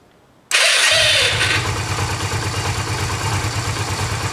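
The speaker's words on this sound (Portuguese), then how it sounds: "Vou só ligar a moto para ver se ela liga." A Yamaha XV 250 Virago motorcycle engine cranks briefly and catches, settling into a loud, steady, lumpy idle with a rhythmic low thump, close by and with no talking.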